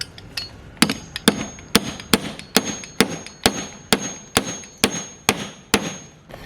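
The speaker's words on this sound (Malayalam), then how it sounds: "അത് ഇതിൻ്റെ മുകളിൽ വെച്ച് ചെറിയ രീതിയിലൊന്ന് മേടി കൊടുത്താൽ മതി" Sharp hammer taps drive a round hole punch through a small piece of bicycle inner tube, about a dozen crisp metallic strikes landing in a steady rhythm, close up and loud.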